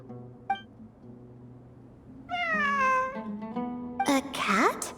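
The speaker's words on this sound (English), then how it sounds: "It really is a cat." A cat in Genshin Impact meows once or twice in clear, drawn-out rising-and-falling cries, close and distinct, with a brief tone beforehand and a character voice interjecting nearby.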